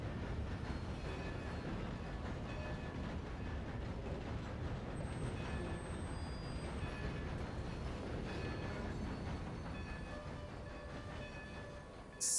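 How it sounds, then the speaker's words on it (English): A passing train in the Red Dead Redemption 2 video game gives a steady, loud rumble and rolling clatter that holds for the whole stretch with no talk over it. "Beautiful train."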